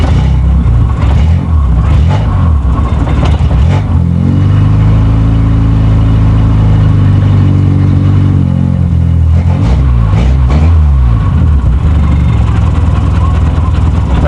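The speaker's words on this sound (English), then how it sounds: "With any luck, she'll start right up." A 1984 Shelby car engine cranks with a few stuttering bursts, catches, and settles into a loud, steady, rumbling idle that dips slightly before stumbling again near the end.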